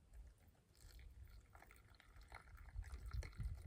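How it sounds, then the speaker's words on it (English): Hot water poured into a bag of emergency food outdoors, a faint, uneven trickling and splashing that grows slightly louder and fuller as the pour goes on. "you're just gonna pour some hot water into the bag"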